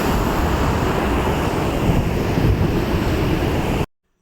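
Floodwater rushes in full flow over a check dam on a swollen Telangana stream after heavy rains, a loud, steady roaring wash with wind buffeting the microphone, cutting off abruptly near the end.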